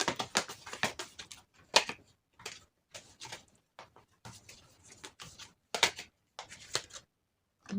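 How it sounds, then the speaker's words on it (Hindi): Tarot cards shuffled and drawn for a love reading: close, crisp bursts of riffling and flicking with short pauses between handfuls, quiet and tactile, with no speech. "सबसे पहले आपके कार्ड्स निकाल लेते हैं एक साथ।"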